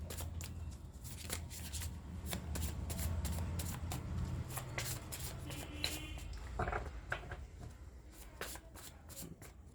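Tarot cards are shuffled by hand in a steady run of crisp riffling clicks and flutters, close and fairly loud throughout, with no talking over it.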